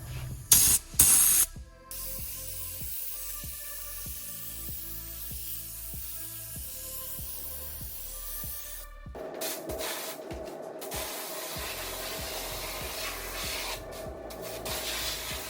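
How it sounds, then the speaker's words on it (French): Black underbody coating sprayed from a cartridge with a spray gun onto a Peugeot 508 rocker panel, with a steady spray hiss and rhythmic pneumatic clicking, then louder bursts of spraying toward the end. "Nous aujourd'hui on va utiliser du noir en cartouche comme ça avec un pistolet"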